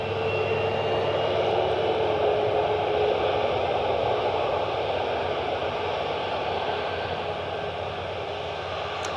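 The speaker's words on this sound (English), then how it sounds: "Three different Maxes, United, Alaska, and American, all ready to depart." Boeing 737 MAX 8 jets of United, Alaska and American airlines at Cleveland Hopkins airport, a steady broadband engine roar held evenly throughout with no talk over it.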